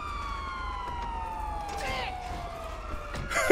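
A police car siren wails in GTA V Online, its sweeping tone gliding steadily downward at moderate loudness, with scattered game noises layered over it.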